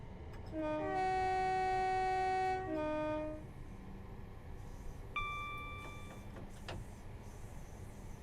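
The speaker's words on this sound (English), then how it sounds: "The flange squeal's really nice as well as usual on the AP products" Wheel flange squeal from a Class 375/377 electric multiple unit in Train Simulator 2020: a loud, sustained high tonal screech lasting a couple of seconds over steady rolling rumble, followed by a shorter, thinner squeal later on.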